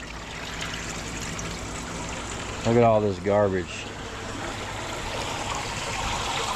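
Steady broadband rush of water flowing through a copper sluice, a continuous stream running the whole time, with someone speaking briefly over it midway.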